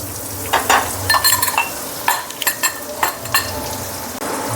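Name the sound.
spice masala frying in hot oil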